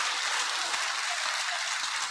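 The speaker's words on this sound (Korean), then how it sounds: "훌륭한 법문을 해주신 심정 스님께 큰 박수 부탁드리겠습니다." An audience at a Buddhist temple claps after a sermon by a venerable monk, a dense, even wash of applause sustained throughout at moderate loudness.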